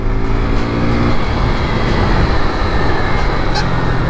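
A Yamaha FZ V2 motorcycle engine is heard close and loud at speed as the throttle opens, giving a continuous rough engine roar with no talk over it.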